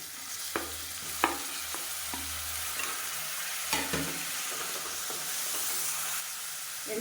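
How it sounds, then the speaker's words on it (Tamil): Sliced onions with mint and cumin sizzle steadily in a pan for biryani, with several clear scraping stirs of a spoon against the metal. No one speaks. "இப்போ வெங்காயம் நல்லா வதங்கிடுச்சு"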